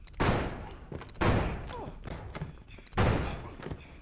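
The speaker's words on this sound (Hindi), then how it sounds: "तब कैरल उन पर गोलियां चलाकर सभी को मार डालती है" Bursts of gunfire from the 2007 film The Invasion, three loud booming volleys about a second and a half apart, each trailing off with a rumble and scattered thuds.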